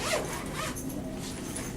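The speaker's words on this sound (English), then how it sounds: "But when you open the zipper" A zipper on a computer case is pulled open in one quick continuous rasp, close and fairly loud, with no talking.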